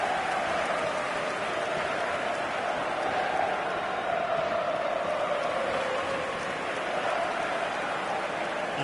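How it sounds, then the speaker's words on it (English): Stadium crowd in the eFootball video game on PS5, a steady dense roar of many voices with a broad hiss, continuous and evenly loud throughout with no distinct cheers or chants standing out. "This crowd doesn't do ordinary, and we should be in for something very special."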